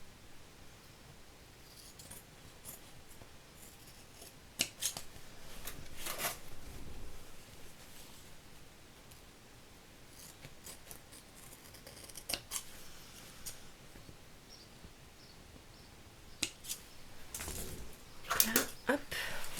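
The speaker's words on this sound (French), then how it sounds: "donc là, je vais venir couper de l'autre côté aussi" Scissors cut through faux leather for a book cover in a quiet room, with sparse, sharp snips spread across the span, some clustered near the end.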